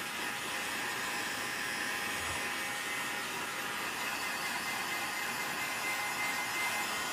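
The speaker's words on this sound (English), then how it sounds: "sometimes I have to angle the heat gun where I put more heat down at the base instead of at the neck of the pipe" A heat gun blows hot air at the base of a fiberglass aero port pipe, a steady close hiss and whir of fan noise running unbroken and even for several seconds.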